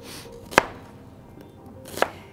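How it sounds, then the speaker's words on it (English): Two distinct knife chops through onion on a cutting board while preparing French onion soup, each a crisp close thud about a second and a half apart, with a quiet kitchen between. "I think the rest of the chopping will go easier."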